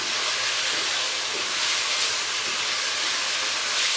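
Shredded cabbage sizzles in a pan of spiced masala for a chicken keema with vegetables, a steady, bright frying hiss that holds close and even throughout with no voices.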